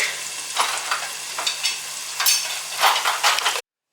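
A prawn biryani mixture being stirred in a cooking pot, with repeated scraping strokes over a steady sizzle, close and fairly loud, with no one talking.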